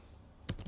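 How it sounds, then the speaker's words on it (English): A short burst of a few keystrokes on a computer keyboard at the very end, quiet and close over a faint background hum. "So I'm typing here like a home page"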